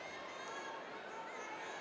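A large crowd fills a packed basketball arena at a county girls' championship tournament game, producing a low, continuous murmur with faint indistinct chatter, distant and even throughout.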